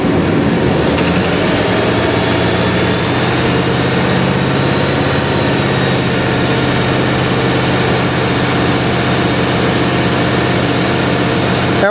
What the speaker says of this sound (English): So we're going to go ahead and rev this engine.